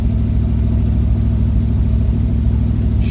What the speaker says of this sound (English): She starts pretty well, cranks really fast.